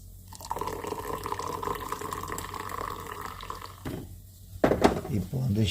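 More water poured into a cup for making coffee, a continuous close liquid stream over several seconds with a pause and then clinking of a cup or vessel at the end.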